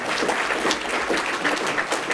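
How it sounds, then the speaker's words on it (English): A luncheon audience at the Columbus Metropolitan Club claps, a moderately loud, uneven patter of hands that rises and dips over a couple of seconds. "Round of applause."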